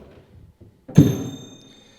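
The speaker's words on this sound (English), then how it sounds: "you hear the bells and the drums at the same time" On an early Viennese piano by Joachim Ehlers, a pedal sets off its drum and bells: a sudden heavy thud with bright ringing bell tones that sustain and slowly fade, following a few soft low knocks.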